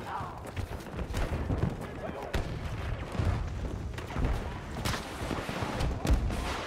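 Repeated gunshots and booming thuds from the video game Battlefield 2042 crack through a noisy, busy mix, coming in irregular bursts at moderate loudness.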